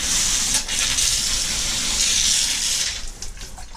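Steady hiss of cold water spraying and splashing from a shower in a converted bus, continuous and close, tapering off near the end.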